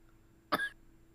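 A single short, sharp cough close to the microphone, breaking an otherwise quiet room.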